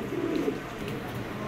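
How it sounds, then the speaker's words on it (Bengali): A male Icebird racer pigeon gives a short, close, soft coo near the start, then a quieter murmuring tail, with no voices. "এটা হচ্ছে একটা নর কবুতর, ঠিক আছে, আইসবার্ড রেসার"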